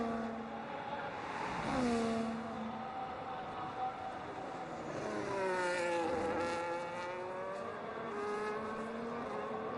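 Ferrari race car in a sim racing game at Azerbaijan: a high, whining engine note rising and falling through gear changes, with a louder revving sweep partway through and distant faint car sounds.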